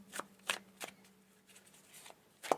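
Oracle cards are shuffled close by in a tarot reading, giving a series of crisp, riffling snaps at irregular intervals with a louder final burst, and no talking.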